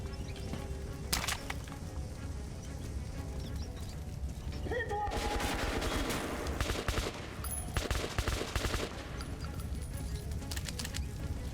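Bursts of gunfire ring out in the video game Metro: Last Light, rapid volleys in the middle of the clip over a steady game background, with someone talking over parts.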